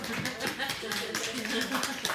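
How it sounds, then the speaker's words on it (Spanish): A church congregation claps for a sister in a dense, steady patter that runs the whole way through, with voices talking over the applause. "Estamos dando un aplauso a la hermana porque está muy bien"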